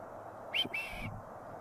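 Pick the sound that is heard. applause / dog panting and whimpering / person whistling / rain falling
person whistling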